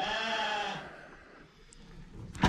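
Sheep and young lambs on a farm: a loud, wavering bleat fills the opening second, then fades into quiet barn ambience before another sharp call at the end.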